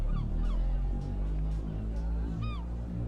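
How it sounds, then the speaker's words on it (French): Seagull cries used as an ambient sound effect, several calls scattered over a steady low background rumble, with one clearer squawk near the end. "le bruit des mouettes continue de vous charmer."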